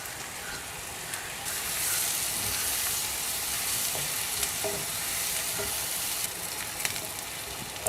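Small and large onions fry in coconut oil in a pan, a steady close sizzle and crackle with an occasional stir or scrape, heard alone without speech.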